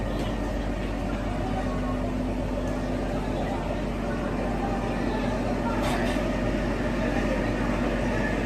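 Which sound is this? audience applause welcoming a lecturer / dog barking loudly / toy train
toy train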